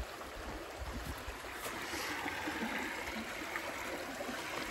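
Water sloshes and swirls steadily as a pan of heavy, gold-bearing material with black sand is worked in a stream, a continuous close wash with no talk.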